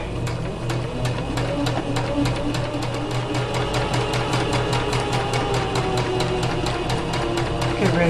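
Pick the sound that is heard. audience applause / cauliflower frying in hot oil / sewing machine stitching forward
sewing machine stitching forward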